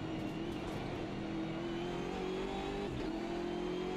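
A BMW GT3 race car in the sim-racing game Automobilista 2 drones at steady high revs with a smooth engine note and a slight pitch dip near the end, heard alone.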